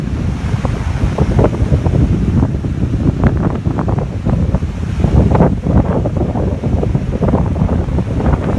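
Ocean surf and strong wind on a stormy seaside shore, a steady roar of breaking waves with crashing bursts and heavy wind buffeting close against the microphone throughout.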